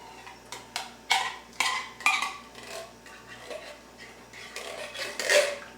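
A spoon clinks and scrapes against a pot of thick beef stroganoff, giving a series of irregular light metallic taps and scrapes, close and fairly quiet, with no talk.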